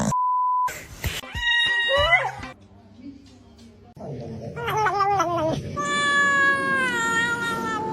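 A kitten meows repeatedly in high, wavering cries with a loud beep at the start, a quieter stretch with other noise, then further close, drawn-out meows.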